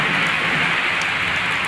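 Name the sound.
rain falling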